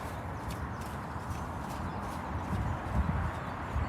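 Faint, soft hoof clops of a horse walking at an easy pace over low background noise, a bit louder near the end.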